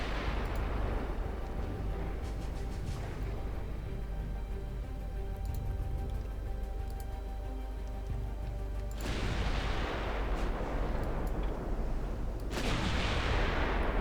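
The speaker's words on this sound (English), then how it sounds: "And battleships are already firing." Battleship main guns fire in the naval game Ultimate Admiral Dreadnoughts, deep booming salvos over a constant heavy rumble, with two loud broadband blasts late on, close and overwhelming with no talking.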